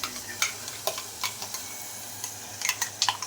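Onion and paste mixture frying in a pan while being stirred for an aloo prawn curry, with soft steady sizzling, scattered clinks of a spoon against the pan, no talking.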